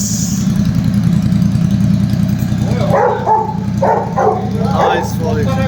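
Super Meteor 650 motorcycle with the silencer removed, idling loudly close by with a steady deep throbbing exhaust note; talk comes in partway through over the engine.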